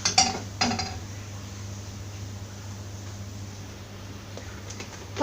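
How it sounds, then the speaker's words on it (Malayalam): A frying pan is set down on a stove with two quick metallic clanks near the start, then only a low steady hum. "ഇനി ഒരു ഫ്രൈയിങ് പാൻ അടുപ്പത്ത് വെക്കാം."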